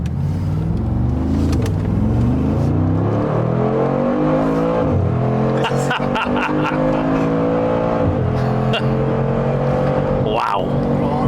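A powerful high-performance car engine revs and accelerates through several rising gear pulls, loud and close, with brief shifts between climbs and sharp bursts near the end.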